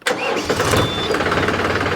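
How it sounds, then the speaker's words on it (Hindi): A Swaraj 735 FE tractor engine without a turbo cranks and catches, settling into a loud, steady diesel rumble close by that persists to the end. "अब ट्रैक्टर को स्टार्ट करके इसकी आवाज़ सुनवाता हूँ, डिफरेंस नोटिस करना आप"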